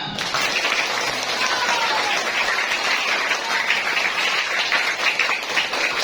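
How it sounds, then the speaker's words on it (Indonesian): Sustained audience applause at a Maulid Nabi celebration, a dense steady wash of clapping from a large crowd lasting throughout, fairly loud and even with no talk. "Beri aplaus tepuk tangan untuk kita semua."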